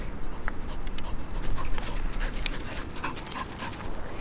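A dog in a quiet city park pants close by in quick, steady breaths that run through the whole moment, with no voices.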